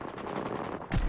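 Video game gunfire erupts as a burst of rapid shots, a short dense crackle of machine-gun-like fire close up, ending in a louder blast.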